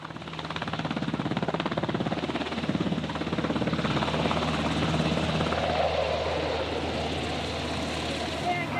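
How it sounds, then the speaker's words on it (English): A US Army helicopter's steady rotor thump and engine roar fill the scene continuously, loud and close, with children's voices chattering underneath. "who arrive in style in a helicopter assault at the end of a rope"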